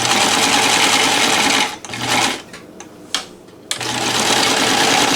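A NELCO L 400 zigzag sewing machine stitching zigzag, running loud and close with a fast steady mechanical whir, stopping briefly in the middle with a few clicks and thumps, then starting up again at full speed.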